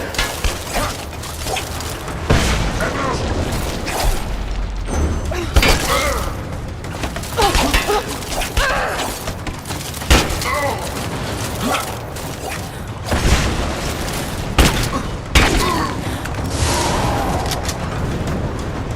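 Gunfire and explosions erupt at a gate in Rise of the Tomb Raider, with repeated sharp loud bursts and booms at irregular intervals over a dense, continuous background of combat noise.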